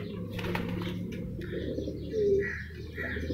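Racing pigeons coo softly in a loft, low rolling calls with a few faint chirps over a steady background hum, no voices.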